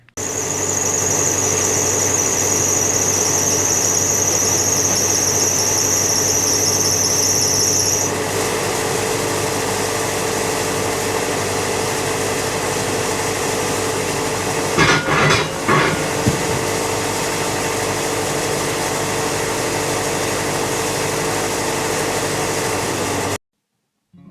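Loud, continuous mechanical whine of a chainsaw mill cutting through a log, with a high squeal early on and a brief clatter midway.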